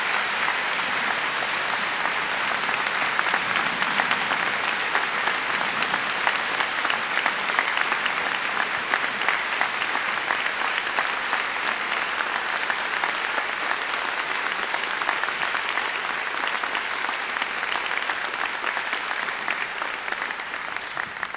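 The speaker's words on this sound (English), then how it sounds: "Will all of you please join me in applauding the achievements and the conferring of the honorary degree of Dr." Sustained applause fills a spring commencement ceremony as an honorary degree is conferred, many hands clapping in a broad, even roar that holds steady for a long stretch.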